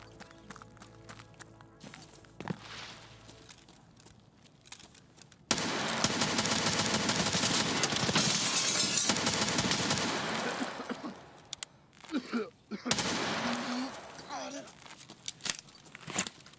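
Gunfire in the video game Escape from Tarkov, with loud dense bursts of shots filling two long stretches after a quieter opening, mixed with game ambience and footsteps.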